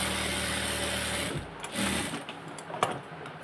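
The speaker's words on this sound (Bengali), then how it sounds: "এখন এটাতে টপসিন একটা দিয়ে দেব, ডাবল সেলাই" A sewing machine runs a steady, rapid mechanical whir while double topstitching a petticoat waistband, then stops and leaves a few faint clicks and handling sounds.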